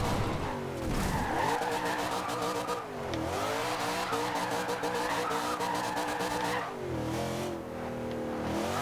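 Camaro Z/28 drifting at a harbour in the racing game Forza Horizon 2, with loud sustained tire squeal over a revving engine that rises and falls in several long slides.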